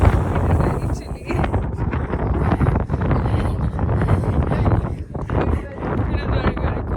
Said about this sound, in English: it is very, very, very windy.